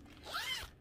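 A zipper is pulled on a cross-stitch project bag, one quick soft zip lasting under a second, close but quiet against faint room noise.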